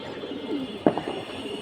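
Pigeons on a rooftop loft giving a soft low coo with a brief sharper flutter in the middle, close but fairly quiet over a background hum.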